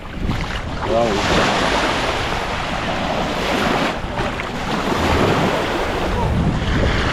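Steady roar of surf at Es Canar beach, Ibiza, and gusting wind buffeting the microphone, continuous and loud throughout, with a faint voice briefly in the background.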